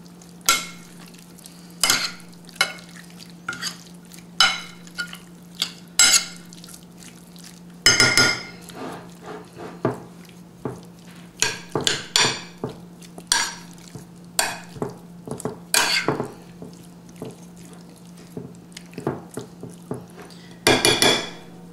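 Sugar is mixed into food in a pan while making Korean steak and chicken over fried rice, with irregular clinks, scrapes and taps of a utensil against the pan over a faint sizzle and steady low hum.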